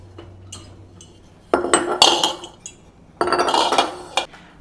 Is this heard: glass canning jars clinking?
yes